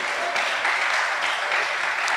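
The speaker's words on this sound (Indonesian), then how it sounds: "Saya nggak dengar tepuk tangan yang meriah bagi Tuhan." Church congregation applauding during a sermon, a dense steady wash of clapping hands at moderate level throughout, with no voices on top.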